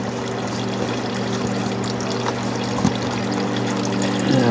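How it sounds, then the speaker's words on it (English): Engine coolant drains steadily from the radiator of a 2003 Nissan Maxima, a continuous close liquid splash and trickle over a low hum, without talk. "coolant draining right there"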